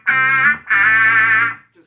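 Synth-like sound run through a Rat distortion pedal gives two sustained, buzzy, harmonically rich tones, loud and close, the second held longer before cutting off.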